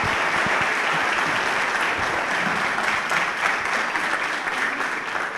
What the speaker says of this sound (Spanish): Podemos aplaudirlo.